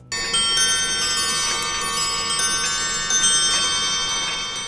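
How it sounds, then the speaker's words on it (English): A repeating chime melody rings out from a jeweled elephant automaton, clear bell-like tones played steadily and close for the whole stretch. "a repeating melody is played on chimes during the entire performance"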